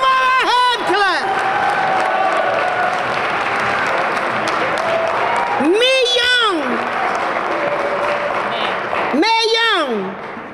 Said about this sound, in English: Come on, let's give her a hand clap.